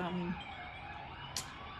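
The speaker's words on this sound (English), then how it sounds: "ambulances going by, but we're not." Ambulance sirens pass along a city street in Melbourne, Australia, a wailing tone rising and falling over steady traffic noise, moderately near, with a brief sharper burst near the end.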